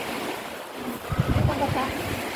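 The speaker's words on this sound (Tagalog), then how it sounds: "Tsaka napakatahimik at alon lang talaga marinig mo dito." Ocean waves roll in at Tangkaan Beach in Burgos, Leyte, a steady low wash of surf with wind noise on the microphone and a couple of louder surges in the middle.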